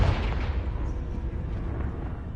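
Confringo blasting spell explosion in the game Hogwarts Legacy, a loud booming burst at the start that rolls into a dense, sustained rumble with no talk over it.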